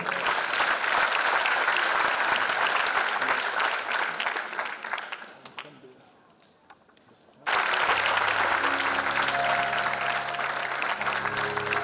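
Loud audience applause at a gospel concert fills the room, dipping briefly to near quiet midway before surging back, with a held musical tone rising under the clapping near the end.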